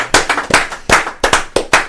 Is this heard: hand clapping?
yes